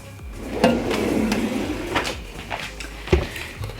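A kitchen drawer slides open with a rumbling scrape, followed by knocks and clatters of utensils being moved about nearby.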